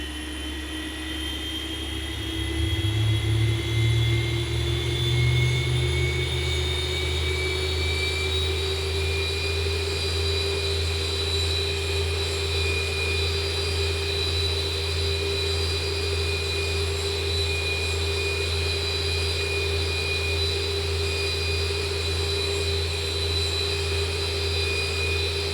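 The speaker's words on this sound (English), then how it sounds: "And we are going to start with engine number 2. And that's going to start kicking up." Boeing 737 jet engine number 2 spooling up in the X-Plane 12 flight simulator, a steady whine that climbs in pitch over the first ten seconds and then holds level under a low rumble, loud and continuous with no talk.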